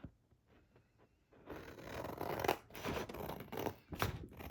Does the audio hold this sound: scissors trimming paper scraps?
yes